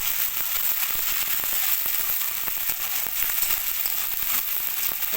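Ginger paste frying in hot oil with onion and garlic for palak curry, a loud dense sizzle with constant sharp popping crackles throughout.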